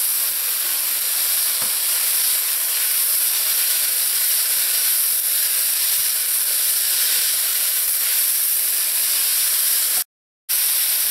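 Minced garlic and ginger fry with quinoa fried rice in a hot pan, giving a steady, loud, broadband sizzle that carries on without a break, with a brief dropout near the end.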